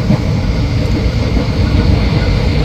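The Haldibari Intercity Express rolls along between Kolkata and New Jalpaiguri, easing off its speed, heard from inside as a loud, steady low rumble of wheels and carriage noise without talk.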